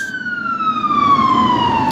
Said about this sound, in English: you hear constant sirens. Fire, police, ambulance.